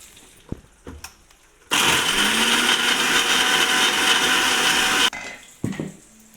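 An electric mixer grinder whirs loudly for about three and a half seconds as it pulverises dried coconut pieces for a masala, starting and stopping abruptly, with soft kitchen clatter before and after.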